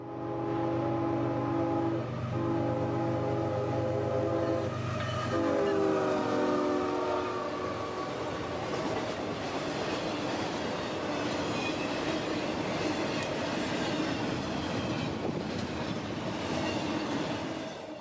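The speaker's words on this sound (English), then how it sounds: "IO-44 would round the bend, speeding north towards Jacksonville" CSX intermodal freight train IO-44 on the A-line near Tampa sounds a long horn blast, then roars past at track speed with steady rolling wheel rumble and rail clatter, loud and close throughout.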